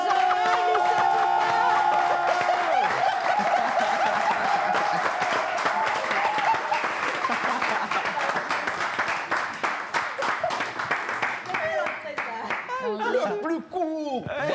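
Sustained audience applause with clapping and cheering runs loud and dense at a Togolese gathering, tapering off at the end as a few voices and laughter emerge.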